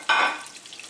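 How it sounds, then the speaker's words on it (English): Macadamia-crusted haddock fillets frying in a pan: a brief soft sizzle with a little stirring, swelling for a moment and then fading quickly. "While that fish is cooking"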